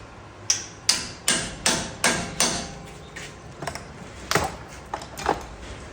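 Tools work at the 12 mm rear bolts of a 2016 Jeep Wrangler wheel hub, giving a run of about eight sharp metallic clanks in a steady rhythm, then lighter irregular knocks.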